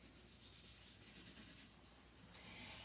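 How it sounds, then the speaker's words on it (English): Brisk scrubbing of a dirty sink comes in quick rubbing strokes, close and fairly faint, with a short pause before the scouring resumes. "They have to be scrubbed out like a dish."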